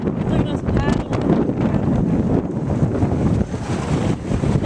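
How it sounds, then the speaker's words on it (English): Choppy waves splash and rush on a lake under steady wind buffeting the microphone, heard from a moving boat in a continuous, loud wash of noise. "Look at them waves."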